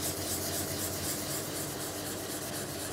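A block is rubbed steadily back and forth over a fibreglass pattern for dry sanding, giving a continuous, close, even rasp with no voices.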